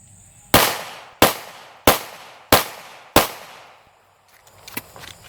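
Pistol fired in a sustained rate-of-fire drill: five sharp, loud shots at an even pace about two-thirds of a second apart, each ringing briefly, then a quieter pause with faint handling noise.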